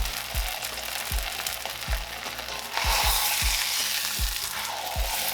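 Steady frying sizzle of a tortilla in a hot pan for chicken birria tacos, with a series of soft low thumps at regular intervals; the hiss grows brighter and louder partway through.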